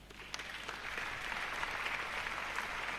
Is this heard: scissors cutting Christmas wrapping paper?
no